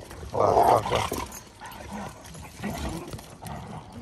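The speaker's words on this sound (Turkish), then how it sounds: "Hırçının yerine başka köpek olsa Blue Cheese'e çoktan dalar." Several dogs playing rough together outdoors on rural land, with a loud close growl near the start followed by quieter grumbles, yips and scuffling.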